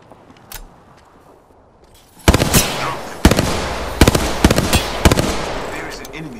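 Apex Legends gunfire: after a quiet start, a string of loud, sharp cracking shots fires in quick uneven bursts at close range, with occasional voice lines under the action.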